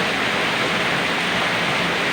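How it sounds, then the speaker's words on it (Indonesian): A torrential downpour in Jogorogo hisses in a thick, unbroken wall of sound, loud and close and perfectly even for a couple of seconds, with no speech over it. "Waduh, hujan deras sekali."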